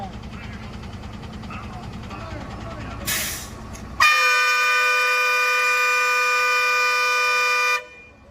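Vehicle horn sounded at close range during a roadside noise-level check by transport officials, a loud steady blaring tone held for nearly four seconds after a brief hiss, with background chatter and street noise beforehand.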